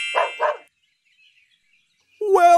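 A dog barks twice in quick, loud succession, followed by a pause and then a longer, higher-pitched yelping call, close and clear with no talk.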